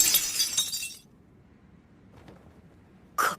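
A sword shatters in a fantasy battle scene: a loud bright burst of breaking, ringing fragments, then near silence, then a second sharp crash at the end.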